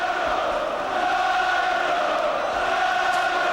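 At a 1996 boxing arena bout between Nigel Benn and Steve Collins, a large crowd roars and chants in a steady, dense wash of noise that fills the hall continuously, with no single voice standing out.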